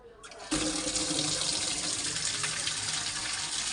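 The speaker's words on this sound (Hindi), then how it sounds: "देखो पानी तो आ रहा है" Water gushes steadily from a household tap, starting abruptly after a brief quiet moment and then running loud, continuous and close for several seconds with no talking.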